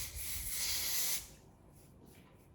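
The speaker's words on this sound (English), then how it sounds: "So I'm going to spray my got2b." Got2b hair spray is sprayed onto a wig: one short, soft hiss lasting about a second, followed by near silence.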